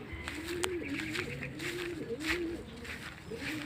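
Racing pigeons cooing in a loft after returning from a derby race, a soft repeated low coo running steadily through the clip with some faint chirps and background rustle, no talk.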